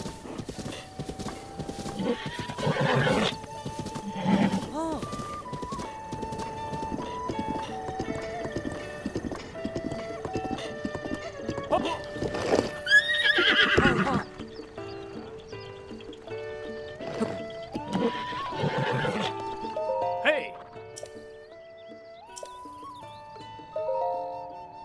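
A horse being registered at a stable in The Legend of Zelda: Breath of the Wild: hooves clip-clop in a steady rhythm with an occasional whinny, set against a tonal game soundtrack throughout.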